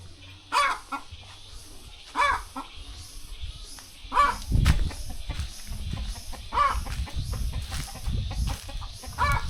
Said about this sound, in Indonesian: Sepertinya ini kandang ayam.